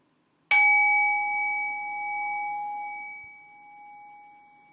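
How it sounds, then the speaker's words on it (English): A meditation bell is struck once, ringing out with a bright, clear tone that sustains and slowly fades over several seconds in an otherwise quiet room. "So I'm going to ring the bell here."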